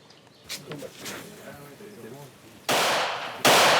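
Two loud, sharp Kalashnikov rifle shots ring out at an anti-jihadist training camp, the second following closely after the first, after a stretch of quieter background sound.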